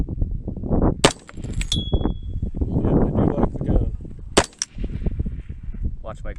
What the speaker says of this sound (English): It does jump severely every time you shoot, but Donnie would love that.